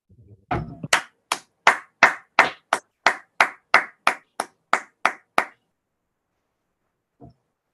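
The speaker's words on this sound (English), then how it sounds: "Just open your mics and just give him a round of applause" Online participants on an open call clap for Professor Horace Campbell: a single pair of hands gives about fourteen sharp, evenly spaced claps, close and crisp, then stops, followed by a faint knock.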